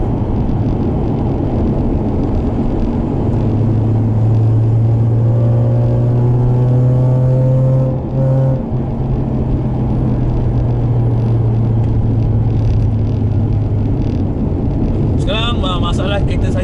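A Mazda RX-8 rotary engine drones loud and close as the car pulls hard, its pitch climbing steadily through the run, with a person talking over the engine noise.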